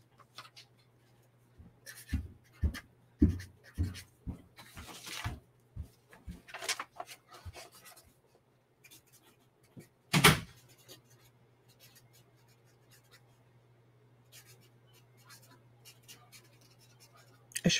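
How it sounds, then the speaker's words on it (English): Pen scratching across paper in a run of short strokes, then scattered quieter writing and one sharp knock midway, with a steady low hum underneath throughout. "let me just make sure I write this down"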